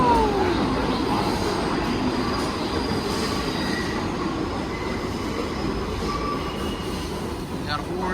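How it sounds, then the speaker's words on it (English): New York subway 4 and 6 trains pulling into a Manhattan station together: a loud, continuous rumble of rail cars with high wheel squeals sliding across it, close by and steady for the whole stretch. "Got a 4 and a 6 train coming in at the same time."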